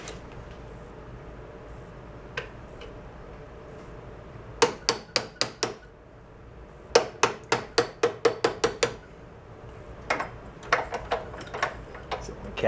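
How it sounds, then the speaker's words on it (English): Sharp metallic hammer taps on a punch driving a pin out of an Ariens snowblower, struck in quick bursts of five or six blows with short pauses between, close and fairly loud. "I'm going to go get a punch and a hammer and tap that guy out of our way"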